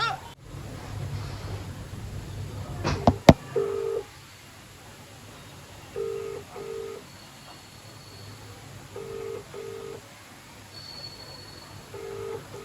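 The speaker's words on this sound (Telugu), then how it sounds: "ఇప్పుడు మన ఫోన్ మన ఫ్రెండ్కి అయితే కాల్ చేసుకుందాం" A phone places a call and gives several short electronic ring-back beeps in pairs, spaced evenly apart. They follow a burst of handling clatter, sit at low level over a faint background hiss and are heard alone.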